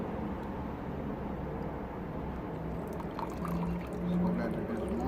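Water poured over a foam piece to soak it for a DIY aeroponic hydroponic system, a soft steady trickle and splash throughout, fairly quiet and close.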